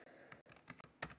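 Keys on an Acorn Electron home computer keyboard clack in a quick irregular burst of about half a dozen close, distinct strokes, recorded alone and fairly faint.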